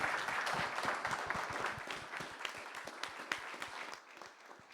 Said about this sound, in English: a huge round of applause for the panel